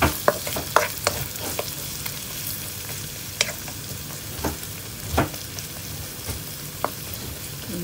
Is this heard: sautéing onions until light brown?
yes